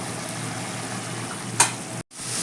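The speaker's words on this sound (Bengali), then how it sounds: "এবার গ্যাসের ফ্লেমটাকে মিডিয়াম করে একটু মশলাটাকে ভালো করে কষে নেব" Spice paste for a katla fish-head curry fries in a pan over a medium flame, a steady low sizzle with one sharp scrape of the spoon before the sound briefly cuts out.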